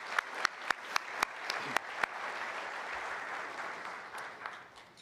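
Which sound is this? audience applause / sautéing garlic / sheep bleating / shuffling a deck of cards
audience applause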